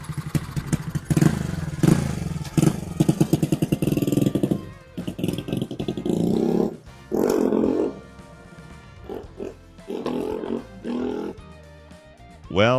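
A 125cc motorcycle on a test ride after a sprocket swap, its engine rising and falling through uneven bursts of revving with clattery mechanical noise, close by, with voices heard in places.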